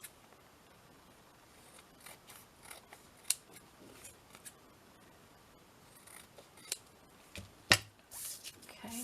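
Soft snips of scissors cutting a patchwork paper tag, sparse and quiet with a few sharper clicks against a near-silent background.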